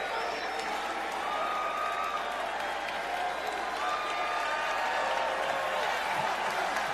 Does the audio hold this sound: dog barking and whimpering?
no